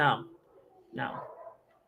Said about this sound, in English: Ooh, the dogs. It's the Twilight bark.